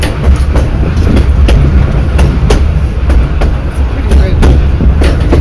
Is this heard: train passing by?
yes